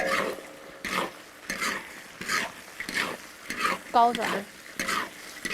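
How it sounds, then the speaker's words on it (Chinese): Crayfish stir-fried in a wok with chili oil, hotpot base and Pixian bean paste: rhythmic scraping strokes of a spatula, roughly one per half second, over a soft sizzle, with a brief spoken phrase. "炒香了之后，把小龙虾倒进去啊"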